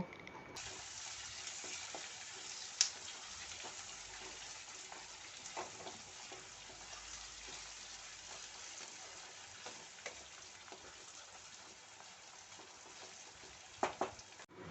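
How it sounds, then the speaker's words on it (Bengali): Two medium-sized onions, chopped, fry in oil over a low-to-medium flame for a Delhi-style mutton keema: a soft, continuous sizzle with scattered small pops and ticks, quiet and steady throughout. "এবার লো টু মিডিয়াম ফ্লেম করে পেঁয়াজটাকে ভেজে নেব"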